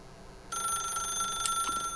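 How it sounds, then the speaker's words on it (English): Telephone in The Stanley Parable video game ringing loud and close, a bright electronic trill starting half a second in and sustaining without a break. "Ring, ring, ring, ring,"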